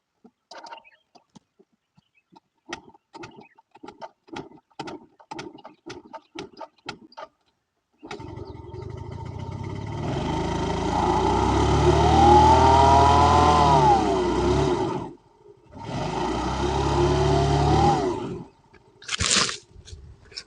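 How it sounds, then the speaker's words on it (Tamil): An off-road vehicle on a rocky Nilgiris trail sputters through several cranking attempts, then its engine catches and revs loudly, falling and rising again before a short final burst. "வண்டி. ஸ்டார்ட் ஆயிடுச்சு."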